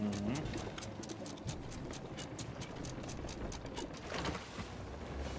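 Ship anchor mechanism in the video game Sea of Thieves, a continuous clattering ratchet of gears and chain running steadily throughout over ambient sea noise.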